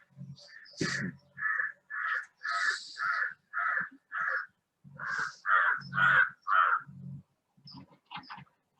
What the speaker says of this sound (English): Crows want to come and talk.